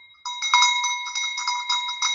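A bright chiming notification bell rings in a quick repeated pattern of metallic dings for about two seconds, clear and close with no talk.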